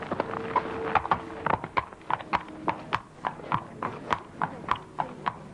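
Horse's hooves clip-clopping steadily on a hard surface as it sets off at a walk, a regular series of sharp knocks, moderately close with faint background noise.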